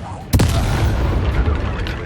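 A sudden whooshing burst of the Incendio fire spell in Hogwarts Legacy, one sharp flare followed by a roaring, rumbling blaze that fills the rest of the moment, loud and close.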